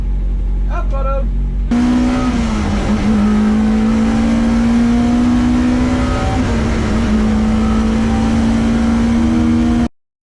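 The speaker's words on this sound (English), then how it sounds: "Cars coming up to the grid then for a combined race." Touring race cars at Cadwell Park rumble loudly up to the grid, a steady close engine drone with rising revs and overlapping exhausts after a brief quieter start.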